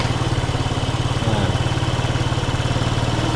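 A Suzuki Smash 115cc motorcycle engine idles close by with a fast, even chugging pulse, its pace rising slightly partway through, with no talking.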